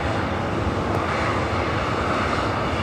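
A 23-year-old Alaska Airlines Boeing 737-900 takes off at LAX, bound for Portland, its engines giving a steady, loud broadband roar that holds evenly throughout with no voices.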